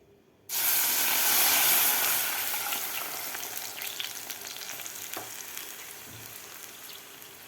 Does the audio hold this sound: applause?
no